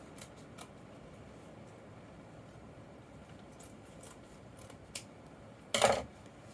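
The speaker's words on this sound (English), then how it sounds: "I have this fabric here that I know I'm not going to need, so I'm going to cut this off as well." Scissors cut off excess upholstery fabric for an RV dinette cushion: faint scattered snips, then one louder, close crunching cut near the end, over a quiet room hum.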